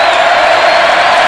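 Stadium crowd roaring at a 1999 college football game between Texas and Texas A&M, a loud, continuous wall of cheering voices with no break, packed and reverberant throughout.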